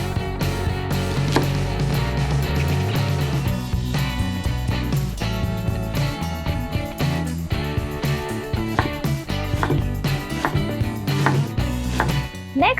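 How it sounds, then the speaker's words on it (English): Repeated knife chops through an onion on a cutting board, a steady busy rhythm of close, sharp taps continuing throughout with some clatter underneath. "I cut onion now, but we will use it later."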